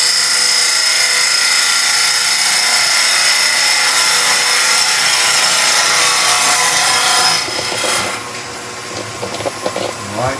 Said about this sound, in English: This is a beading and parting tool.